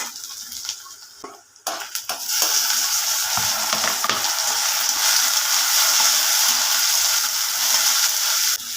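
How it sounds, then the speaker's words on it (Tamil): Small onions sauté in hot oil for a sardine curry, a steady crackling sizzle with stirring scrapes. It starts quieter and patchy, then swells after about two seconds into a loud, continuous fry close by, with no talking. "நல்லா வதங்கட்டுங்க."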